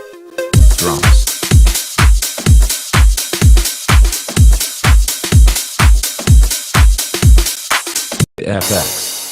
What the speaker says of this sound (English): Drums.